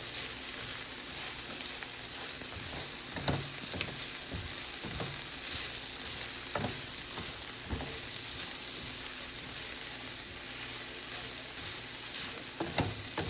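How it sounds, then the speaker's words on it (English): Shrimp and vegetables with garlic, thyme and parsley sautéing in a pan: a steady, loud, close sizzle runs throughout, broken by occasional knocks and scrapes of stirring. "So you're gonna make this saute for the next couple of minutes"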